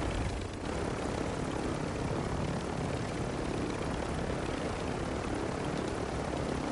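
Helicopter flying in a video game, a steady loud rotor and engine drone that fills the scene without letup, with no talk over it.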